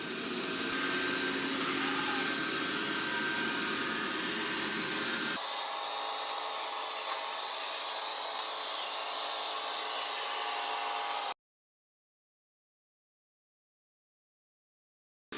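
A Dreame L20 Ultra robot vacuum mop cleaning the floor around a rug, running with a loud, steady whirring drone that shifts to a lower-toned hum midway before stopping abruptly.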